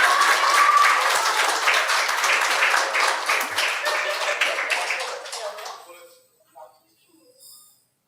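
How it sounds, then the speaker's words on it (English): A school quiz audience gives the winners a loud round of applause, dense clapping from many hands that holds steady and then tapers off over about six seconds, leaving near silence with a few faint trailing sounds. "Let's give them a resounding round of applause."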